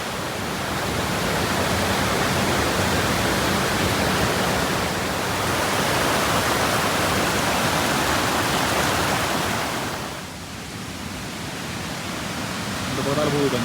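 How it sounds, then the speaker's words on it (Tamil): Water rushing over the top of a mountain waterfall near a hillside estate village, a loud continuous roar that dips briefly before swelling again. "அங்கேருந்து வருது தண்ணி"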